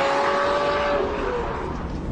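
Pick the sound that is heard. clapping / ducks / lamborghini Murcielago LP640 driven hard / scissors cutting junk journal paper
lamborghini Murcielago LP640 driven hard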